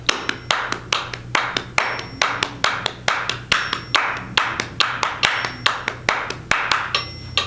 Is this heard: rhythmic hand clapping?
yes